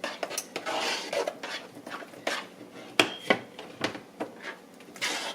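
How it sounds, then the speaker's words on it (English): A spoon stirring coconut into pie filling in a pot, with scraping sweeps and sharp clinks of utensil against the pot in irregular bursts, close and clear with no talking. "Here, stirring that coconut all in there."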